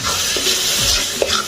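Rice tipped into masala frying in a pan, a dense continuous hiss of sizzling with soft scraping stir strokes, loud and close with no talking.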